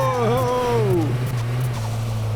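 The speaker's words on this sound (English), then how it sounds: "You can hear the turbo." A rising-then-falling turbo whistle from an Audi A5 or A6 style car in Car Mechanic Simulator, a steady harmonic whine sweeping up and down over a constant low engine drone, heard alone without talk.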